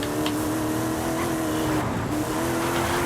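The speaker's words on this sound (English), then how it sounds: "So it's like a detuned racing V8 with a better stock sound." A loud, steady V8 engine drone from a Mercedes AMG Hammer Wagon in Forza Horizon 5 holds a low, sustained pitch close up, with a brief dip in tone midway before settling back.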